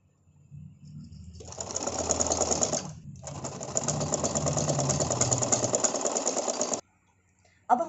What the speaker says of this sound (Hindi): इस पर भी मुझे अब एक कच्ची सिलाई लगानी है।